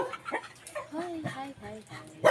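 A pet dog barks, yips and whimpers close by at home, the short calls mixed in with a person talking throughout.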